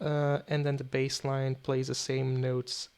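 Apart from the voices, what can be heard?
No everyday noises stand out.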